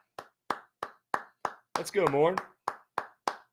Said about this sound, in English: Can we clap it up for Morn?